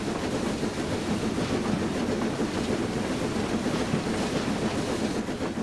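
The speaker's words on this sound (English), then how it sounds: "Train's on a bridge." Train crossing a bridge, heard as a steady rumbling roll of wheels on track, continuous and fairly loud with faint rhythmic clatter and no talk.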